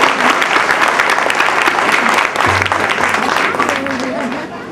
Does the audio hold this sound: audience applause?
yes